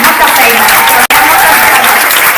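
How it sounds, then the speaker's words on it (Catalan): Loud, close applause from an audience at a school reading-aloud competition, thanking the jury, steady throughout with a momentary cut in the middle and voices mixed in. "Fem un aplaudiment al jurat que ha fet molta"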